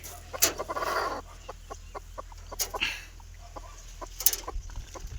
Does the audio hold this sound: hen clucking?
yes